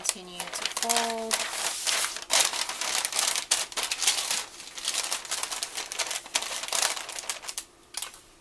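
Packing paper is folded and taped around a pair of shoes being wrapped for shipping, giving close, irregular bursts of crinkling and rustling with a few short squeaks near the start, fairly quiet overall.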